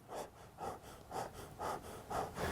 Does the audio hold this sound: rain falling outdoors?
no